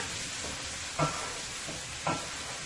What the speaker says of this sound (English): So I'm going to let this continue to fry nice and golden brown here.